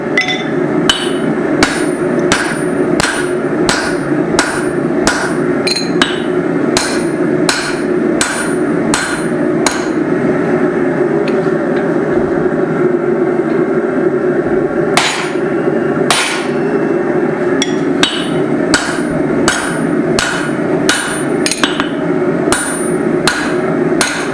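Steady hammer blows forging a micro hatchet, sharp ringing strikes in a regular rhythm, loud and close throughout with no talk.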